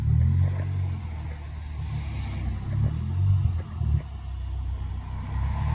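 Ford Focus ST fitted with an MBRS exhaust and Roush intake, its engine rumbling steadily up close with a deep low drone and a few mild swells of revving, no talk.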